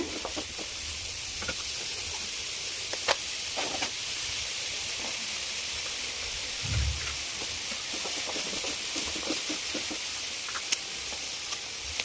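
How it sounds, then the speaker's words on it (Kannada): Onions frying in hot oil in a pan for a pumpkin-greens egg palya, a steady hissing sizzle throughout, close and even, with occasional faint clicks and one soft low thump midway. "ಒಂದು ಬಾಣಲಿ ಇಟ್ಕೊಂಡು ಎಣ್ಣೆ ಹಾಕ್ಕೊಳೋಣ ಎಣ್ಣೆ ಬಿಸಿ ಆಗಿದ ತಕ್ಷಣವೇ ಈರುಳ್ಳಿ ಹಾಕ್ಬಿಡೋಣ ಈರುಳ್ಳಿ ಹಾಕಿ ಚೆನ್ನಾಗಿ ಫ್ರೈ ಮಾಡ್ಕೊಳೋಣ"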